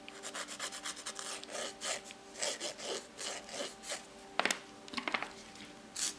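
A nail file rasps across a nail while a semi-permanent polish reinforcement is prepared, with a quiet series of short, rhythmic scraping strokes, close and soft, a few slightly sharper ones near the end, and no talking.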